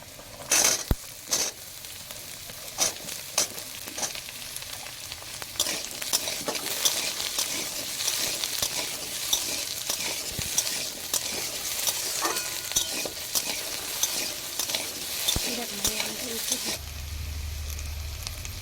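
Radish and mixed vegetables fry in a pan with a dense, ongoing sizzle and frequent sharp ladle knocks and scrapes, growing busier midway, before a low rumble takes over at the end.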